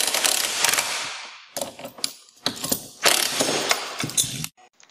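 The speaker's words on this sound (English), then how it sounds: "we're going to remove the bracket that holds the chain tensioner" Tools work loose the bracket that holds the chain tensioner on a Track N Go track system, making loud, close ratcheting and metallic clanking in uneven bursts with short gaps, then stopping abruptly.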